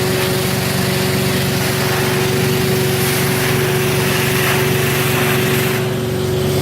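A hot water rinse of an area rug with a cleaning wand, driven by a loud steady engine and pump drone with a constant hum. The spray and suction noise stays even and close for the whole stretch.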